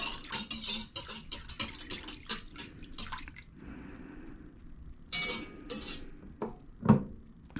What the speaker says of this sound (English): Give that a little whisk around.